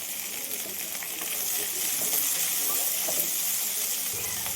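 Onion, cashew and tomato fry in a pan with a steady high hiss and sizzle, soft and continuous, with faint crackling throughout and no voice.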